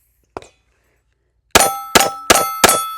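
A Smith & Wesson M&P Shield X pistol being cycled by hand: one small click, a pause, then four sharp metallic clangs in quick, even succession as cartridges eject and strike a hard surface nearby.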